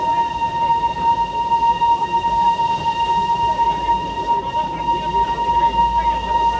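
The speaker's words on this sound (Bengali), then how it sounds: "আমাদের ট্রেনের স্পিড হচ্ছে 8, 9, 10 এরকম স্পিড থাকছে।" The Darjeeling Himalayan Railway toy train runs slowly, at about 8 to 10 km/h, with a continuous close rumble and a steady whine of running gear throughout.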